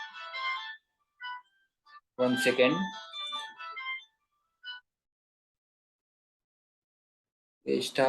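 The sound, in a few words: mobile phone ringing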